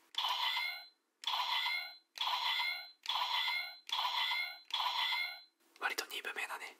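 A DX Raging Sword toy from Kamen Rider Geats plays its electronic sound, six identical bright beeping tones in an even rhythm followed by a burst of rapid, stuttering electronic chirps, close and clear with no talk.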